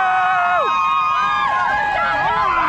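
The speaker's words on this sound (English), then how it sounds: "So here we are, Tower Bridge, with the crowd." A marathon crowd at Tower Bridge, London, roars and cheers loudly and continuously, with high shouts and whoops sliding up and down close by.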